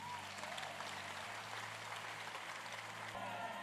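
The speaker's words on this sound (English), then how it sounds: "let's clap for the man of God" An audience at a Sunday church service applauds a pastor with continuous dense clapping, accompanied by a low sustained hum from the sound system.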